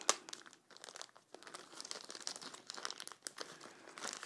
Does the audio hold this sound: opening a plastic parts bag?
yes